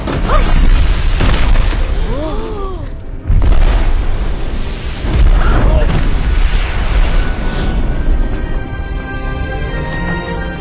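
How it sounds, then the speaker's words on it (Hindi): Firecrackers go off as repeated loud, booming bursts, close and forceful, with one short gap of near silence, while voices talk over the blasts. "तुम पटाखे इस्तेमाल कर रहे हो?"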